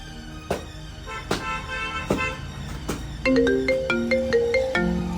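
A mobile phone ringtone plays a bright, repeating electronic melody in a Gujarati comedy scene, following a few sharp knocks or taps, close and fairly loud with no voices over it.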